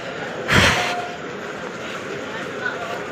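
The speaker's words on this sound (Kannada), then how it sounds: "ಇದೇ ಟ್ರೈನ್ ಬಂತು." Train at a railway platform: a loud broadband rush swells briefly near the start and fades into steady station rumble. A short tone sounds at about one second, and a voice murmurs faintly in the background.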